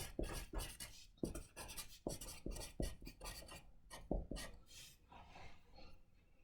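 Pencil or pen scratching across paper in a classroom, with a run of quick, uneven strokes and short pauses between words, close and fairly quiet.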